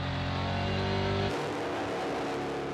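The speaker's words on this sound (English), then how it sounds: "as we go back on board with Luca Lasser trying to hunt down the car ahead as they come over the start-finish line." A EuroNASCAR Pro race car at the 2020 NASCAR GP Croatia, heard onboard during an overtake: a loud, sustained engine roar that drops sharply in pitch partway through as it shifts or lifts, then continues rough and rumbling.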